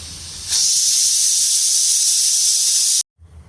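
A kitchen pressure cooker releases a loud, steady hiss of steam that starts abruptly, holds for about two and a half seconds, then cuts off sharply, leaving quiet room noise.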